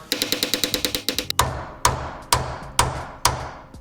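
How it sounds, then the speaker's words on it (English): A small Mini Thor air hammer rattles in a rapid burst of about a dozen close, sharp blows, then strikes five slower, heavier single hits during a Chevy 2500 truck front end rebuild. "I like being careful with the air hammer"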